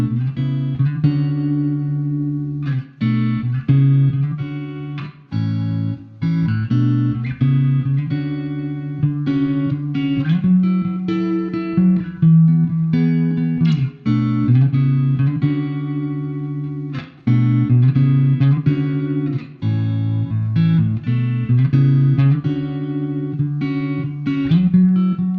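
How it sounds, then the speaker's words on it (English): An electric guitar plays a clean preset from the Neural DSP Archetype Nolly with light reverb, bright chords and melodic phrases ringing steadily with short pauses and no talk. "All right, so that was the big Roomy clean preset."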